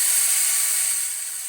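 A power tool whirs steadily at a high pitch, loud and close, with a slight drop in speed near the end; its speed is adjustable.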